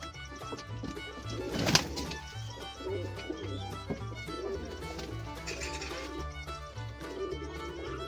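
Giribaz pigeons coo softly in a loft, low repeated coos with some rustling and a brief flutter, while a person talks nearby.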